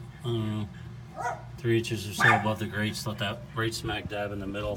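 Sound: dogs barking

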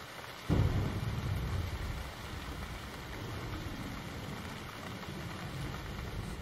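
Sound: artificial rain in a rattlesnake terrarium

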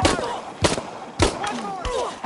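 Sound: gunfire in Shadow of the Tomb Raider video game

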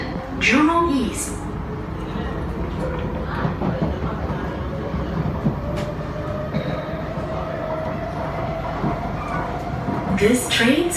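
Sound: Singapore MRT train running towards Jurong East

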